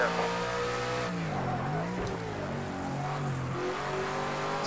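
Audi V8 DTM touring car engine in Project CARS 2, loud and close, with steady harmonic drone rising and falling through gear changes and revs, continuous throughout.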